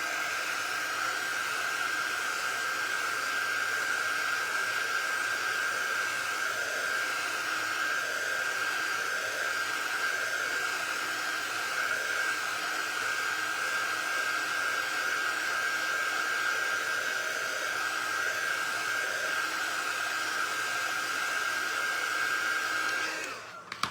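A blow dryer runs continuously at close range, drying chalk paint on canvas with a steady whooshing roar and a constant whine, then cuts off abruptly at the very end.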